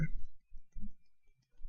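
A computer mouse gives a few short, distinct clicks separated by brief pauses, close and quiet against near silence.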